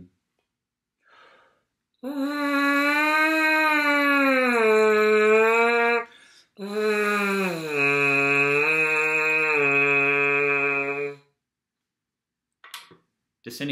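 French horn mouthpiece lip buzzing exercise: two sustained pitched buzzes, the first gliding gently, the second stepping down through a few notes, close and fairly loud, with silence around them.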